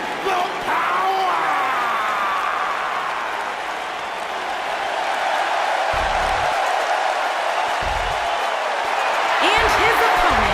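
Dense arena crowd applause in WWE 2K19, a continuous broad wash of clapping and cheering that holds steady throughout, with a few thumps and a brief whistle-like sound near the end.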